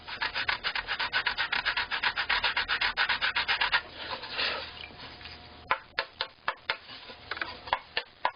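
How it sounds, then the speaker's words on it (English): Sandpaper rubs against a wooden plate in fast, even back-and-forth strokes, close and fairly loud, then slows into a few separate, sharper scrapes. "we'll just use a little sandpaper here"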